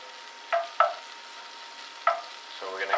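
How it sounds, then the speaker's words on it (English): Butter melting in a cooking pot, sizzling softly in the background under a few sharp spoon or utensil clinks against the pot, no talking. "Oh, it's getting nice and sizzling."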